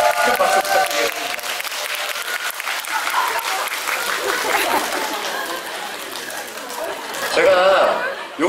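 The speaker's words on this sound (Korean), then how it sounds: "여러분 큰 박수 부탁드리겠습니다" Audience applause at the opening ceremony of a Lotte Cinema hall in Seongnam, with dense clapping running steadily throughout, crowd chatter mixed in and a brief swell near the end.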